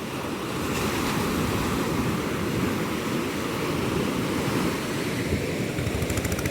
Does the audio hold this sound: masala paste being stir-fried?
no